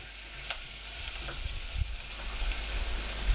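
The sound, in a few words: capsicum stirred and frying in a pan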